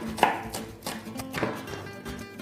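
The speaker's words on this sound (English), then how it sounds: "Next, some parsley. Cut the stalks off. Chop through." Knife chopping through fresh parsley on a board, with several crisp, irregular cuts close up and no talking.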